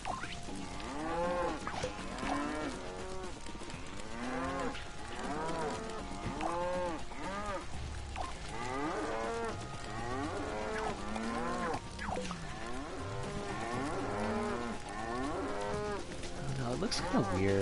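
Cows in the video game LittleBigPlanet 3 moo over and over, many overlapping bellows in a dense, continuous chorus filling the whole stretch, loud and close with no talking.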